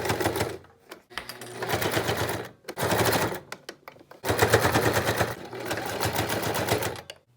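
Sewing machine stitching stuffed animal head pieces, running in several bursts of rapid mechanical chatter separated by short pauses, close and fairly loud throughout.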